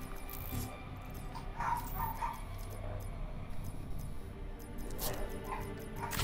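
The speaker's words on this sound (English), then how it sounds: "Do I have to kill these dogs again?" Dogs bark and yip in a video game, short sharp calls scattered through the clip over continuous game noise and effects.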